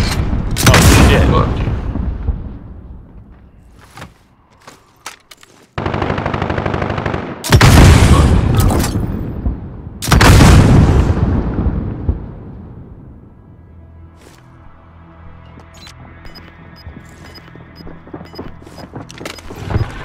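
Loud rocket launches and heavy blasts erupt in Call of Duty: Modern Warfare, with several sharp, booming bursts separated by brief gaps and a long fading rumble afterward. Players talk over the action.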